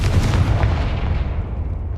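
Confringo fire-blast spell cast in the Hogwarts Legacy video game, a loud booming burst that hits at the start and then decays through a rumbling tail, with no talking over it.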